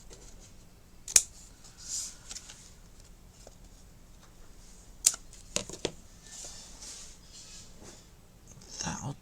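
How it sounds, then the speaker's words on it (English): Scissors snip the corners off a small paper card in a craft setting, a few sharp isolated cuts spaced apart in an otherwise quiet room, with faint handling rustles between. "I just need to snip my little corners off"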